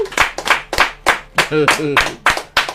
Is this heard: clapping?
yes